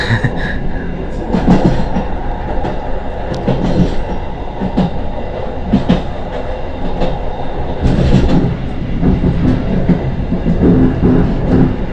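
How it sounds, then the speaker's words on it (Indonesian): A passing train rumbles by on the rails, heard from aboard another train near Cikampek, Indonesia, a steady loud roar with rhythmic wheel clatter and occasional metallic squeals throughout. "Kita papasan sama kereta nih,"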